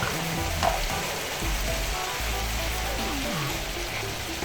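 Stew base with crayfish frying in a pot for an African giant snail stew, a steady close crackling sizzle that holds even and continuous throughout, with no talking.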